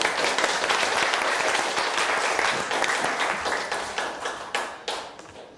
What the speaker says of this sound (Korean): 힘찬 박수로 맞아주시기